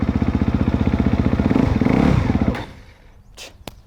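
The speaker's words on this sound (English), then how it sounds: "This bike keeps dying." A dirt bike engine chugs loudly and rhythmically at low revs, then abruptly cuts out and stalls, leaving near quiet with a couple of faint clicks.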